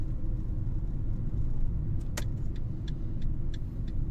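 A car driving along a road during a driving practice session, giving a steady low road and engine rumble throughout, with a few faint ticks or clicks over the drone and no talking.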